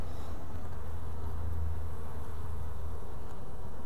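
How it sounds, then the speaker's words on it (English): A steady, dense buzzing of many honey bees swarming close by at an open beehive, continuous and loud with a low hum throughout. "where did all these bees come from all of a sudden?"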